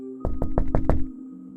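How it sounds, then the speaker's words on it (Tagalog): Five quick, solid knocks in an even rhythm, close and fairly loud, followed by quiet with a faint steady hum. "may narinig akong kumatok sa bintana ko"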